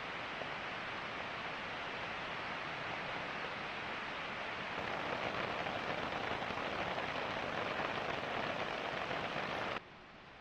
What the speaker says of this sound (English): Some rain came through, but nothing too bad